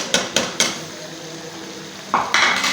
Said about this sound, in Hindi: इसे अच्छे से मिक्स करेंगे और साथ में डालूँगी मैं हरी मिर्चें